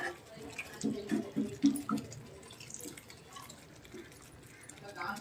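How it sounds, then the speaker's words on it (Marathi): Spiced masala water for a prawn chutney curry is poured into a hot pan, giving a short burst of splashing and trickling that fades to a low simmer, with quiet speech nearby. "गरम गरम थंड मसाल्याचं पाणी घालूया"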